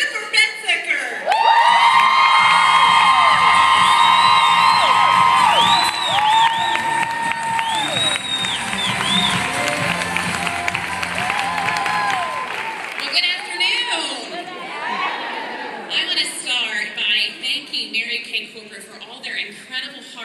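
A large conference crowd bursts into loud, sustained applause with cheers and whoops, filling the hall before gradually thinning out as scattered clapping continues.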